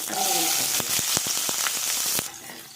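Fennel seeds crackling in hot oil in a pan for chicken pepper fry, a close steady sizzle with sharp pops and clicks scattered through it, then dropping off abruptly near the end.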